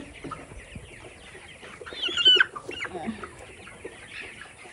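Farm chickens cluck in a shed, with a rooster among them. The soft, scattered clucks are close and fairly quiet, with one brief louder call in the middle.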